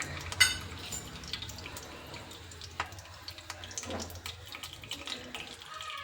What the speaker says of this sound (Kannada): ಸಾಸಿವೆ ಚಿಟ್ಲುತ್ತಾ ಇದೆ.